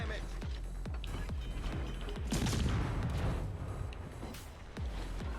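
Warship guns fire in the World of Warships Legends video game, a series of heavy booming shots at a regular pace with one louder, longer crashing burst in the middle, while a voice talks alongside.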